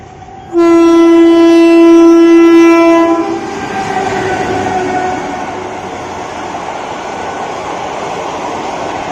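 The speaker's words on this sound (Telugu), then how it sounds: "ఈ ట్రైన్కి సంబంధించిన డీటెయిల్స్ ఇప్పుడు ట్రైన్ చూసేయండి" A Holi special express train blasts a loud, sustained horn up close, then its cars roll past with a steady rumble and rhythmic clickety-clack that continues to the end.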